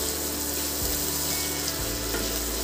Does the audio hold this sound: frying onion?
yes